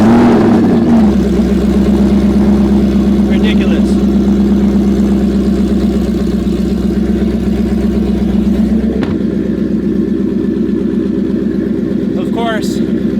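A supercharged Roush Stage 3 Ford Mustang engine idles loudly and steadily up close, with a deep rumble that shifts partway through. Someone briefly speaks over it.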